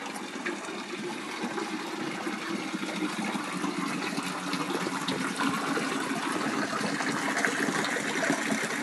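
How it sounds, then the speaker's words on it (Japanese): A waterfall at a reputedly haunted spot rushes in a steady, broad wash of falling water. The sound is continuous and moderately close, with no talk over it. "滝あるよ。"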